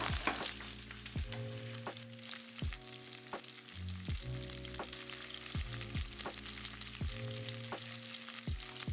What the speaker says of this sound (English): Add the shrimp in 1 layer. We just want to sear both sides